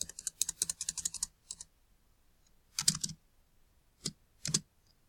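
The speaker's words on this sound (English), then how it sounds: "you can play with your space and enter buttons on your keyboard to position the words" Typing on a computer keyboard, with bursts of quick close key clicks, a short pause, then a few scattered separate keystrokes and a final double tap.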